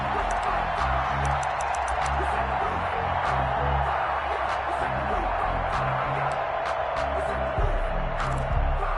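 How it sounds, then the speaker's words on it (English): Stadium crowd noise in a Madden NFL football game between Washington and the Steelers, a continuous roar with scattered whoops building before a big third down, heard beneath a steady commentary voice. "The crowd getting into it as we come up on a big 3rd down."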